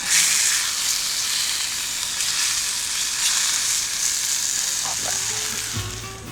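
Steak sizzling loudly and steadily in a pan just taken off a campfire, a dense continuous hiss close up that eases slightly toward the end as a faint low tone enters.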